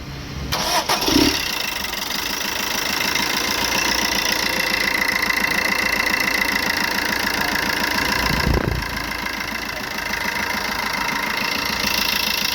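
A 1.3 Euro 5 diesel car engine with faulty injectors idles steadily with a rough, knocking rumble, running close and loud with a brief dip partway through.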